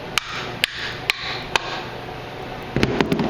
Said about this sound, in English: just kind of hammer the thing in there